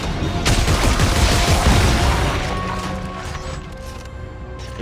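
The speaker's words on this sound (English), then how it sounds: "good thing you have a stasis gun" Stasis gun weapon fire from the Dead Space 3 video game, a loud dense burst of crashing, gunfire-like blasts in the first two seconds that fades into a lingering mechanical rumble.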